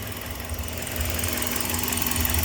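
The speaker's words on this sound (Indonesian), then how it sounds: "Nah untuk suara mesinnya halus ya lur" A 2005 Toyota Vios engine idles smoothly and steadily with a low, even hum and faint mechanical ticking, heard close up and alone with no voices.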